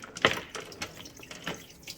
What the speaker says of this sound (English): all we're going to do now is go ahead and rinse it